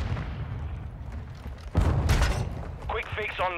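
Gunfire from Call of Duty Modern Warfare II rattles in a burst of sharp shots under steady game noise, with a voice briefly speaking near the end.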